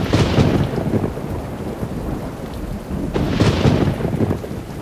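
Steady rain and rolling thunder from a Minecraft world, a continuous wash of rainfall with a deeper rumbling swell near the start and again toward the end, with no voices.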